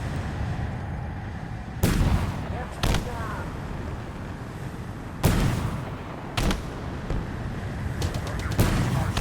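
Missiles fired at vehicles in a sci-fi shooter game, several sharp loud launch blasts standing out at irregular intervals over continuous rumbling battle noise, with a player talking throughout.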